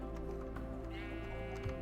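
Sheep bleat in a Minecraft farm scene, one short wavering animal call rising over a steady background of game music and ambience, moderately loud and brief.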